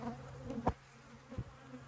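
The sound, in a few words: honey bees buzzing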